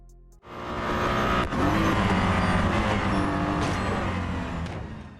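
Race cars in Real Racing 3 roaring with a sustained loud engine drone, a sharp shift-like dip early on, then steady high-revving noise that slowly fades toward the end.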